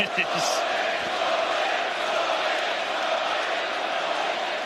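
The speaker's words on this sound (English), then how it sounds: "Boy, this place is buzzing now." A packed arena crowd buzzes before a Misfits boxing fight, a dense, steady roar of many voices filling the space throughout, with a few brief shouts near the start.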